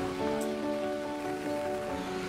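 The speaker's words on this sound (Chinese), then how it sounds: "下大雨。" Heavy rain pours down steadily during an outdoor basketball game, a constant, even wash of noise with a faint steady hum beneath it and no voices.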